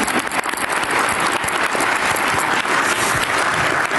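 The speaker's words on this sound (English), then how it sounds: "let's give them a round of applause" Luncheon audience at the 113th First Lady's Luncheon breaking into sustained applause, a dense, even wash of many hands clapping for several seconds, loud and continuous with no voices over it.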